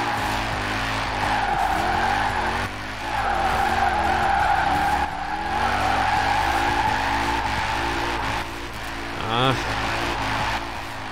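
Lotus Omega drifting in Forza Horizon 4, its tires squealing in long sustained skids over a droning engine that revs and shifts, loud and continuous with a brief engine surge near the end.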